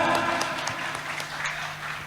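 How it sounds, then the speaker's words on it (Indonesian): Crowd applause at a community gathering and halal bihalal event in Brebes, Indonesia; sustained, fairly loud clapping from many people filling the whole moment without pause. "Tepuk tangan!"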